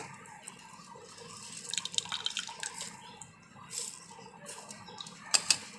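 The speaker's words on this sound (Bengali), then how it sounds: "রসটা ছেঁকে নিয়েছি যে দেখুন কীভাবে ছেঁকে নিচ্ছি এক ফোঁটাও ময়লা থাকবে না" Thankuni leaf juice being strained through a sieve makes faint, irregular drips and small trickles, with a few light clinks of the utensil, quiet and close.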